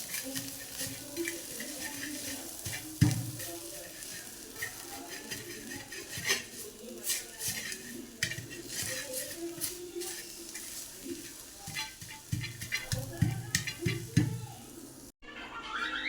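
Green chillies pounded and crushed in a hot pan with a stone pestle, giving a continuous run of clattering knocks, scrapes and metallic taps on the pan, fairly close and moderately loud, with a faint sizzle underneath.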